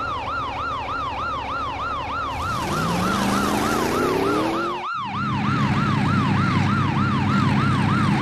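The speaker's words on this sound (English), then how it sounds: "Police car." A police car siren wails in a fast, repeating up-and-down pattern, loud and close, joined by a rising engine tone that cuts off sharply near the five-second mark before the siren continues over road noise.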